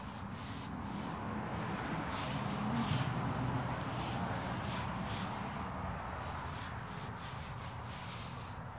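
Wax is rubbed by hand into a wooden staff, a steady close dry friction sound with soft rhythmic strokes running evenly throughout, no speech.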